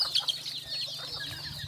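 Bantam hens cluck softly in a coop, a few short, quiet clucks and murmurs close by, with no talking.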